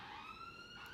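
A brief, steady wail of an ambulance siren, held tones with no obvious rise or fall, heard faintly in the distance.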